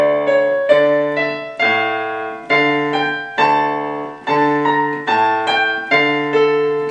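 A piano played slowly with both hands together, with chords struck every second or so and left to ring and fade before the next one.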